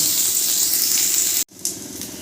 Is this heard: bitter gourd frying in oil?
yes